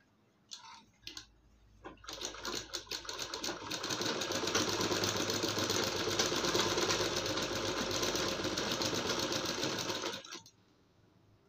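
A sewing machine stitching around a folded round neckline on a garment, a few short starts and clicks followed by a long, steady whirring run of about eight seconds that stops abruptly.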